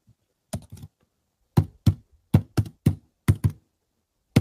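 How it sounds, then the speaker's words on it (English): Heavy, forceful typing on a computer keyboard comes through as about a dozen loud, thudding keystrokes in uneven bursts, close and isolated with quiet gaps between hits. "Is that him typing?"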